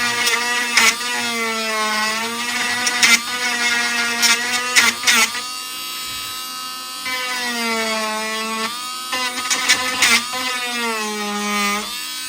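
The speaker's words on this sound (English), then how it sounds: "I used a portable grinder with a kind of a diamond tip." Portable grinder with a diamond tip sanding down a stump on a Mercedes-Benz R129 front door speaker cover, a steady close whine with pitch dipping and rising under load, broken by several short sharp bursts.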